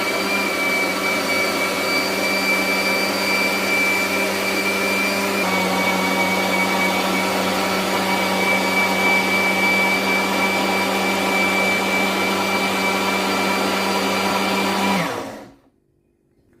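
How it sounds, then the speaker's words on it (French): A blender purées raw spinach leaf soup with a loud, steady high-pitched whir that holds constant for about fifteen seconds, shifting pitch slightly partway through, then spins down quickly to silence. "c'est que c'est prêt et je mixe."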